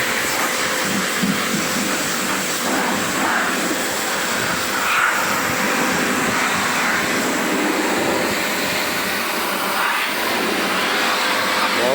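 A loud, steady mechanical roar and hiss of a car wash pressure washer running continuously, broad and unchanging for the whole stretch.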